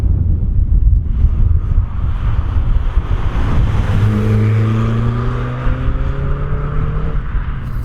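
A Renaultsport Twingo 133 hot hatch drives along a road, its engine droning steadily under heavy wind rush, with a rising tonal whine as it accelerates midway.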